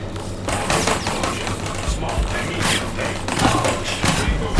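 Turrets in the blocky shooter game Block N Load fire continuous rapid bursts of automatic gunfire. The shots are dense and loud, mixed with thuds and mechanical clatter throughout, with no talking.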